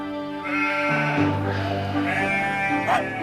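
Sheep bleat loudly and close by, several drawn-out wavering calls overlapping one after another.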